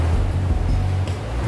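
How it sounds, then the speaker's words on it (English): Artificial waves made by a pneumatic wave generator that replicates natural wave patterns up to 2.2 meters high, a loud, steady rushing surf with low rumbling swells and no talk. "The powerful wave generator can create a custom wave every 10 seconds."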